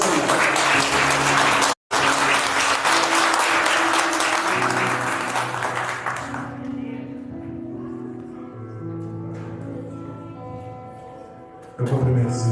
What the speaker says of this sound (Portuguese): Aplaude ao Senhor nesta noite, irmão.